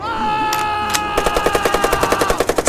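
Loud machine gun fire cuts in after a sustained high tone and bursts out as a rapid, evenly spaced string of close shots.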